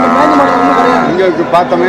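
Cattle lowing at a busy livestock market in Melapalayam, loud close moos stretching on and overlapping, with a sharp short noise near the end and faint voices mixed in.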